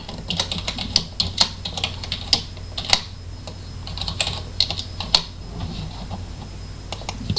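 A password is typed on a computer keyboard during VPN setup, giving a steady run of close, sharp key clicks with a few louder taps over a constant low background hum.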